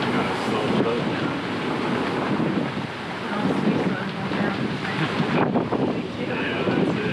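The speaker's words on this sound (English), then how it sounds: "What you heard were some of the moments running with the storm." Near-gale storm wind roars steadily around a sailboat running with the storm under a scrap of sail, with waves rushing and surging close by, loud and continuous with brief lulls.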